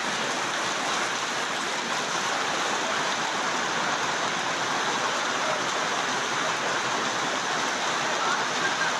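Heavy rain pours steadily at the Mirpur bus stand in Kushtia, a dense, unbroken hiss that stays even and fairly close throughout, with no voices over it.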